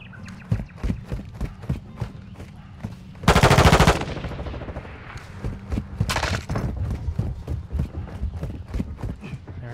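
Rapid gunfire in the 2022 shooter game Modern Warfare II, a steady stream of punchy close shots with two heavy, dense bursts of fire partway through, loud throughout.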